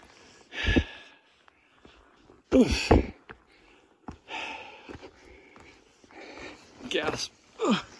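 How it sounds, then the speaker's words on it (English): Heavy gasping and wheezing breaths from someone hiking uphill on a steep elk trail through oak shrub in former gypsum country, coming in several loud close bursts with quieter breathing in between. "Gasp."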